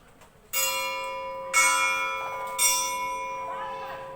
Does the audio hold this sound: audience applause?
no